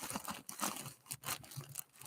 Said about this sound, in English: I'm going to rip open the plastic bag